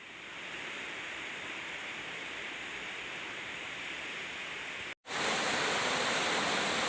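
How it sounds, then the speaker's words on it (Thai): Heavy river water rushes into the Pa Sak dam reservoir during a storm, a loud steady broadband roar throughout with a brief cut near the end before resuming. "น้ำก็ไหลมาจากทางเหนือครับผม"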